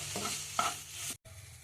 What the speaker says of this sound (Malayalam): കുറച്ച് ടൈം ഒന്ന് നല്ലപോലെ ഇളക്കി കൊടുത്താൽ ഇത് ഈ ടെക്സ്റ്ററിൽ വരും